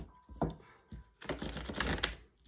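A deck of oracle cards is shuffled close up: a short riffle, a pause, then a longer crisp run of card flutter ending in a tap, quiet and without speech.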